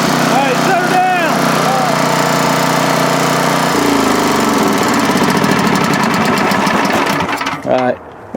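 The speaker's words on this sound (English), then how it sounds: "now that we got the engine running" A Sears generator engine runs loud and close with a steady, rough mechanical drone that shifts in pitch partway through, then cuts out near the end; a voice speaks over it early on.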